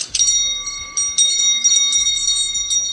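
A bell rung repeatedly with bright, sustained ringing tones, struck in several bursts over a few seconds and fairly loud, with some muffled background noise.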